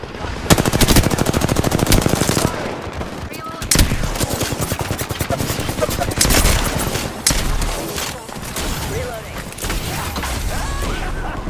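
Gunfire in Apex Legends comes in several loud rapid automatic bursts separated by brief pauses, with a few mechanical clanks, while a player's voice speaks over parts of the action.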